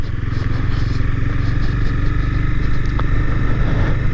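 A 2015 Honda CB300F single-cylinder engine droning at high revs while cruising at highway speed, loud and steady with a constant buzzing hum and rushing wind.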